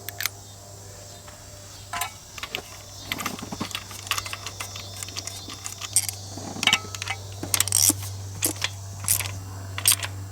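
An old spark plug being unscrewed from a pre-merger AMG engine that has sat for 27 years, giving a series of small metallic clicks, ticks and clinks from a tool close up over a low steady hum.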